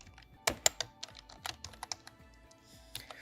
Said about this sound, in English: now we're going to type localhost again